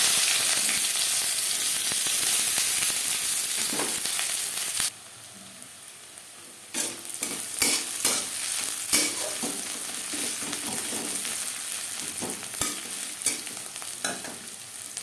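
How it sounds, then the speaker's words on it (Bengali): Oil hisses steadily, then erupts into louder crackling sizzle as onions hit the pan, with occasional stirring scrapes and no talking. "তেল গরম হয়ে গেছে এবার দিয়ে দেবো পেঁয়াজ"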